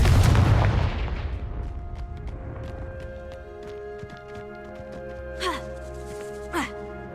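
Confringo blasting spell going off in Hogwarts Legacy, a loud burst at the start that decays into a fading rumble, followed by two brief whooshing magical bursts later amid quiet game ambience.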